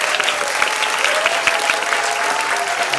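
Loud, dense clapping from an audience welcoming children at a theatre festival programme, brisk and continuous with individual claps standing out near the front.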